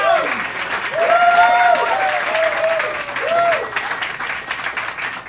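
A comedy club audience claps and cheers steadily throughout, with a few whoops and voices rising above the applause.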